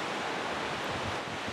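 Steady broadband rush of creek water flowing below a steep slope near a campsite, a constant hiss-like wash with no distinct splashes, moderately faint and unbroken.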